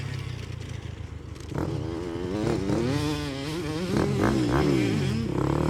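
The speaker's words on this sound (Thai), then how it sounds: "สนับสนุนรถใช้ในการฝึกซ้อมครับ เป็น 250ซีซีฮอนด้าครับ" A Honda 250cc motocross motorcycle engine used for practice runs steadily nearby, its buzzing note rising and falling through revs with a firmer, louder stretch after the first second and a half.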